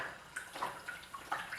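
A spoon is swished and rinsed in a sink of dishwater, giving soft splashing and sloshing in irregular bursts, moderately quiet, with no voices.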